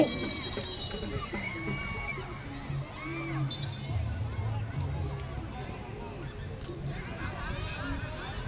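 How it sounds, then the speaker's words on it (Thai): Crowd of spectators cheering and shouting at an under-10 youth football match in Thailand, a broad steady roar of voices and children's yells running throughout, with a louder swell in the middle. "เริ่มมีเสียงเชียร์แล้วครับสำหรับสิทธิชัย"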